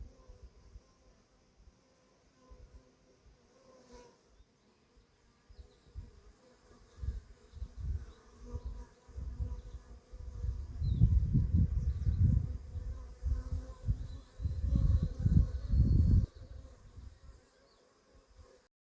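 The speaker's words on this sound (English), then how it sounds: "check out the beehive that's in this old house that we have here on the farm" Bees swarm around a beehive inside an old farmhouse on a farm, giving a low droning hum that starts faint and grows into a thick, fluctuating buzz in the second half before fading near the end, heard from a short distance.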